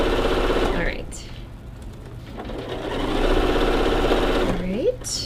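A sewing machine runs while stitching a holiday mini quilt, a steady mechanical whir with rapid needle chatter that slows and speeds up, with brief squeaky handling noises and a voice speaking briefly over it.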